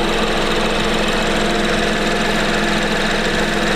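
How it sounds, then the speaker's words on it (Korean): A Mini Cooper 5-door, third generation, runs at a steady idle with the bonnet open, a constant close engine drone with even mechanical ticking and no change in pace throughout. "엔진 소리 일정합니다."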